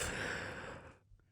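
A single long yawn from an adult man with a breathy, sighing exhale, close and fairly loud, easing off toward the end into a faint catch of breath.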